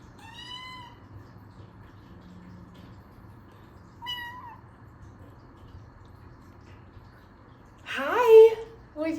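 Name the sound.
cat meowing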